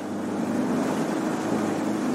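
A motorboat leaves a small fishing port on the Loire. Its engine hums steadily in a low, continuous drone, close by, with wind noise rushing over it.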